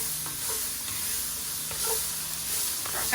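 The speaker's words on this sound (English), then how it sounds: "And we're gonna saute this a little bit longer, probably another minute." Chicken, broccoli and carrots sautéing in a stir-fry pan give off a loud, continuous sizzling hiss with stirring scrapes and no voices.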